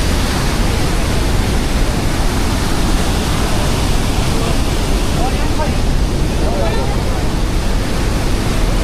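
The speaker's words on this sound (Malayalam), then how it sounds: "അപ്പോൾ ഇതാണ് ഡേവിസ് ഫോൾ" Davis Falls in Pokhara, Nepal, a constant dense roar of rushing water, loud and unbroken throughout with no other sounds standing out.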